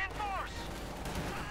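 Machine gun fire in Company of Heroes 2, a rapid crackle of gunfire in the middle of battle sounds, quite faint and under a commentator's voice.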